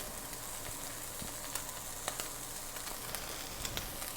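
Wagyu steak sears in a very hot, cranked-up pan with butter, a faint but steady crackling sizzle dotted with sharp little pops, heard alone without talk.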